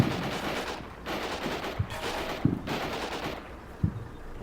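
Gunfire from the video game Combat Mission Shock Force 2, in a Canadian assault on an insurgent base: rattling bursts of machine-gun fire with a few sharper single reports standing out above a steady din of battle.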